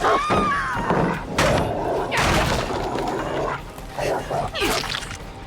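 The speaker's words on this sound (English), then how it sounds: "what we can also do is we can launch the dog at them" In a video game, a dog launched at enemies barks repeatedly, with yips, whimpers and crashing impacts mixed in, loud and busy throughout.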